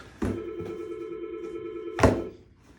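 Telephone rings in a dental office, a single sustained electronic tone that starts with a click and ends abruptly, heard clearly and alone.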